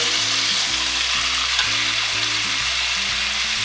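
Marinated ribeye steak searing in a hot pan, a loud, steady close sizzle with a faint low hum underneath, continuous without pauses.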